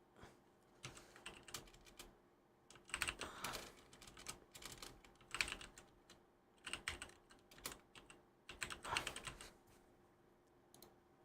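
Someone types on a computer keyboard in quiet bursts of rapid clicks, several short runs separated by brief pauses.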